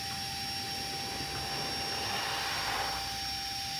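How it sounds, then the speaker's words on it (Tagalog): A steady, high-pitched whine of a small portable car vacuum in blower mode runs continuously at close range, with a thin tonal hum over rushing air. "Itest naman natin yung blower function."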